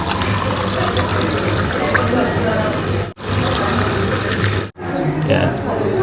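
Water runs from a restaurant drink dispenser into a glass of ice in Japan, a steady close pouring rush with two brief cutoffs, under background room noise.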